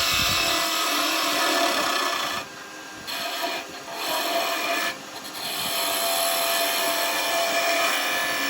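A finger gouge cuts spinning wood on a woodturning lathe while making spinning tops, producing a loud continuous rasping, scraping hiss close by that briefly lightens twice as the tool eases off.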